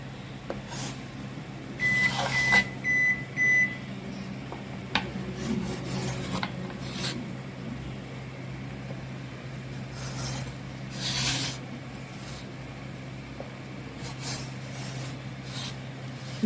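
Bun dough pressed flat on a board is cut with a series of short, soft scraping and rasping strokes, quiet and close, with a few electronic beeps in the background early on.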